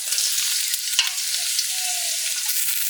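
Potatoes fry with onions and chilli in a pan for a village vegetable khichuri, giving a steady, close, bright sizzle throughout with no talk.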